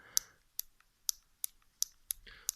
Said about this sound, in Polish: Spójrzmy sobie tutaj taki fajny klik jest, jak się przełącza.